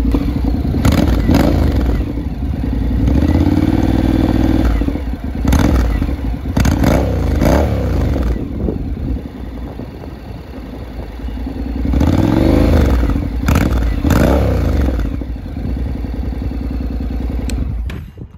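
A 2014 Honda CTX700 ABS motorcycle with fully automatic transmission running close by, the engine rumbling steadily with a few revs rising and falling and some mechanical clatter.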